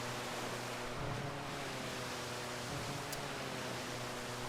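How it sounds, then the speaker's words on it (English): A jet ski in Wii Sports Resort hitting waves, a steady, dense roar of engine and spray with a low engine drone running throughout and faint thumps as it strikes the water. "Hitting all the waves."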